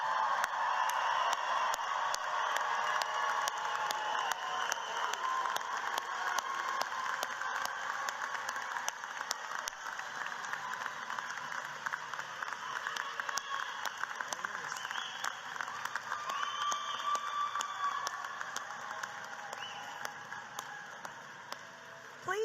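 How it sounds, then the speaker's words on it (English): An audience at a university commencement morning ceremony gives a standing round of applause, a dense, steady wash of clapping that continues evenly throughout with faint voices mixed in. "I ask the audience to please stand and give them a roaring lion round of applause."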